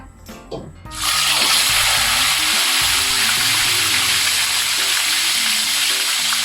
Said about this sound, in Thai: วิธีทอด ไม่ให้ติดกระทะนะคะถ้าปลาตัวใหญ่ แล้วเราใส่น้ำมัน ไม่เยอะนะคะ